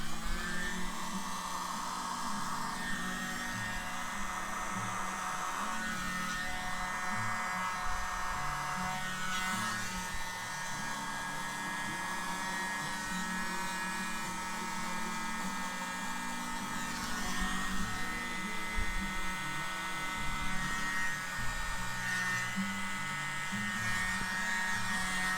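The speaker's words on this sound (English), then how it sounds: "I may take the mini blower" A small handheld mini blower runs steadily with a whirring, buzzing motor hum throughout, close and continuous with slight fluctuations in pitch.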